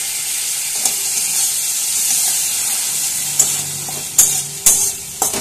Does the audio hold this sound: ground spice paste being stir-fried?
yes